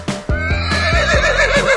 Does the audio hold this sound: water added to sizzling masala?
no